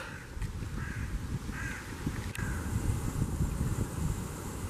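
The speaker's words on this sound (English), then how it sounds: "Is that a raven? It is a raven." A raven caws several times in the open on a Vienna morning, the calls fairly distinct over steady wind and low city rumble, with no talking.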